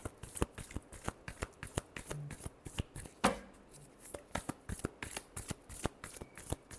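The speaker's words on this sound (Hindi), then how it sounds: "जमिनाई के लिए लास्ट शफल।" A deck of tarot cards is shuffled by hand close up, giving a quick run of crisp, papery slaps and riffling flicks in an uneven rhythm, quiet and with no talk.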